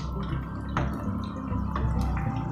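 Kachu malpoya, a taro-based sweet fritter, frying three at a time in hot oil, heard as a steady close sizzle with scattered bubbling pops and small crackles throughout, with no talking.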